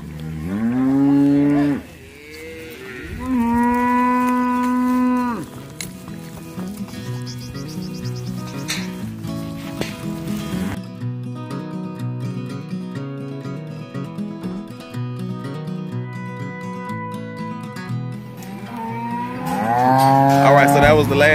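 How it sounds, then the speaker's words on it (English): Cattle bellowing in a catch pen during herd work, loud drawn-out moos from several animals close by, with a busy stretch of overlapping calls and clattering before a final strong bellow. "we have all the cows in this catch pen now"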